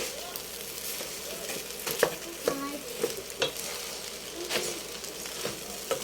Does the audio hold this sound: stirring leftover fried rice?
yes